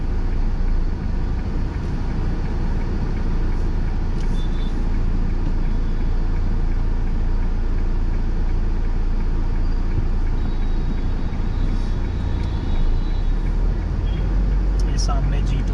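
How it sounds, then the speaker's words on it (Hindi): Dense, constant street traffic in Varanasi, with engines rumbling nearby and faint horns now and then, recorded from a moving vehicle on a road trip while a voice talks over the noise. "मैंने सोचा आपको वाराणसी की ट्रैफिक भी दिखा दूं"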